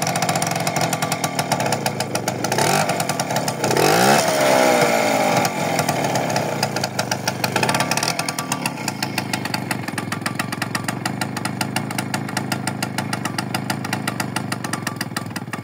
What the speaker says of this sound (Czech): už to drží ten volnoběh líp